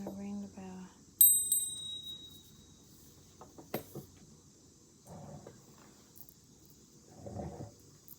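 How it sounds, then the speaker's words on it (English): A small bell rings once with a bright, sustained metallic ding that slowly fades during a tarot card reading, close and clear, followed by quieter handling sounds and soft talking. "I'm gonna ring the bell."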